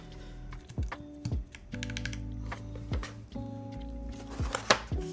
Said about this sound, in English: All right, let's put the keycaps on.